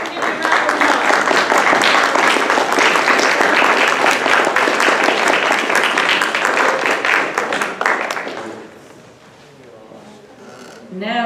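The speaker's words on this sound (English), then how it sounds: "stand up so we can give you a round of applause." Loud, dense applause from a school assembly crowd fills the room steadily for about eight seconds, then fades to scattered claps and murmuring.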